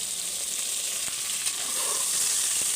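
Soya chunks pulao sizzles steadily in a pan while being stirred, a constant bright frying hiss with a few faint scrapes of the spoon and no talk.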